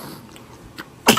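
A short, sharp sneeze bursts out near the end of a quiet moment at home, preceded by faint breathy sounds.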